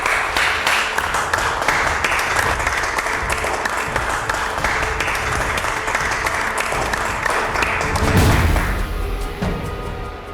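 Studio audience applause on a Hindi television drama set, a dense, steady wash of clapping that holds for about ten seconds and swells briefly near the end before thinning out.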